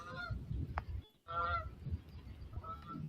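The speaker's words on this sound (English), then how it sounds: "Couple of geese." Several geese honk repeatedly outdoors during a thunderstorm, loud, fairly close calls in uneven bursts over a low rumbling background, with a short quiet gap partway through.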